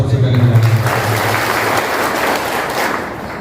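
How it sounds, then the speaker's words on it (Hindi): Applause from people gathered at a press conference, a loud, steady wash of clapping running the full length, with voices mixed in at the start. "इनके लिए जोरदार तालियां हम सबसे पहले दें"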